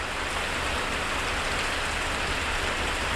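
Steady, even rainfall in Langkawi, a dense continuous hiss of drops on leaves and surfaces, fairly close and unbroken, with no voices.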